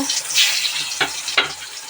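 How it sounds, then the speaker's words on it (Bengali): Pointed gourd (potol) frying in hot oil in a wok, a close hissing sizzle with two sharp spatter bursts about a second apart. "কড়াই তেল গরম হয়ে গেছে পটল ভাজবো"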